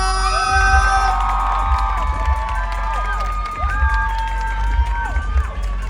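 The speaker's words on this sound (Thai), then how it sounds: "ขอเสียงปรบมือดังๆให้กับวริยะโต๊ะตีด้วยนะ" A loud crowd cheers and shouts for the winner at a televised Thai rap competition, with excited whoops and high voices over a thumping beat, steady and near throughout.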